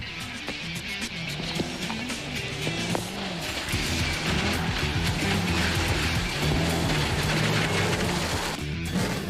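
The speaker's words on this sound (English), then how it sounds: "now we have a figure 8. So changing direction in the car is going to upset the balance a little bit." Car engine revving and shifting pitch as it drives a figure-8 around cones on a timed course, near and loud throughout, with engine notes rising and falling through the direction changes.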